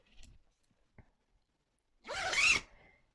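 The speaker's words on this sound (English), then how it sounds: "It has a 2-way zip. So it zips down this way." Two-way zip on a Bonds Wondersuit baby suit being pulled, a couple of faint clicks followed by a single quick, close zipping run, with no talk.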